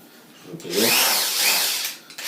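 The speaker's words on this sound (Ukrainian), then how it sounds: "Давайте ще шуруповерт зараз підключу." An electric screwdriver powered by a homemade inverter whirs up to a high, steady motor whine, holds it for about a second and a half, then winds down.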